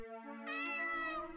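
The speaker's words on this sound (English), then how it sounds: "Whiskers! That's your cat." Whiskers the cat meows in the video game Mausoleosis, a single close, clear meow that rises and then falls, heard on its own.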